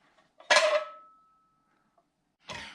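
A small metal Trangia camping pan clanks sharply once, leaving a thin metallic ring that fades over about a second, then gets a second brief rattling knock, close and fairly loud.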